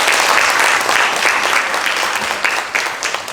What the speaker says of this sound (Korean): 다시 한번 이인호 교수님께 큰 박수 부탁드리겠습니다.